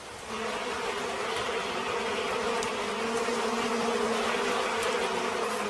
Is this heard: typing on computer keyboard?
no